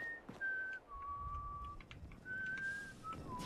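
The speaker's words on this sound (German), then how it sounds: "Oh, pfeift doch nicht hier rum." A clear, tuneful whistled melody in Fallout 4, a few sustained notes with short pauses between them, heard alone over quiet ambient background.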